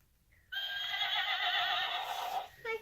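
An animal sound toy plays a loud, close, electronic horse neigh, one sustained wavering whinny of about two seconds that starts abruptly and cuts off, followed by a short faint sound.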